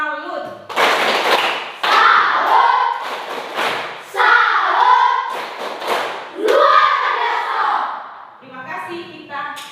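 A group performs a rhythmic salute clap in a classroom session, several sharp bursts of clapping in a patterned sequence mixed with shouted chants, ending with a short sung phrase.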